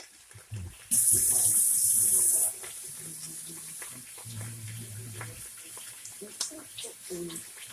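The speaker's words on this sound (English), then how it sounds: "I'm gonna wash my hands" Water from a kitchen tap runs loudly for about a second and a half while hands are washed, then drops to quieter splashing and handling sounds beneath faint talk during taco preparation.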